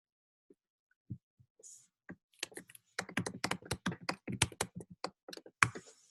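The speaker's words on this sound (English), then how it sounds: "I'm just typing in my email address." Keys clatter on a computer keyboard as an email address is entered, starting with a few scattered taps and building into a quick, steady run of close, crisp keystrokes.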